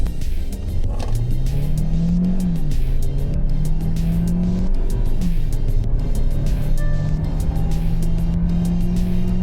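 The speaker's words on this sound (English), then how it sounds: "So let me put it on sport mode, and let us floor it in 3, 2, 1, and here we go." A Kia Seltos X Line floored in sport mode, its engine note climbing loudly and steadily through the gears with short dips at each shift, heard from inside the cabin.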